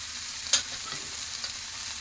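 Spices for farsan bhaji sauté in oil, a soft, steady sizzle broken by a few brief clinks of a spoon stirring the pan, quiet and close with no talk.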